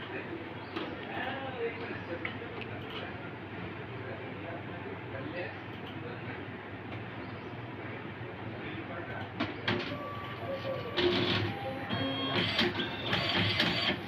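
An Olivetti PR2 Plus dot matrix passbook printer running its self-test, giving a steady mechanical buzzing and chattering hum that grows busier and louder toward the end, with no talk over it.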